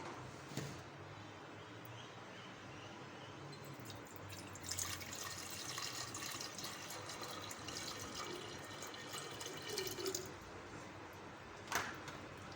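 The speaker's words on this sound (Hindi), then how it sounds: "हमने जग लिया है, जग में पानी डाल देते हैं" Water is poured into a jug while making sattu sharbat, a steady splashing, trickling stream that runs for about twelve seconds with a few louder bursts and drips.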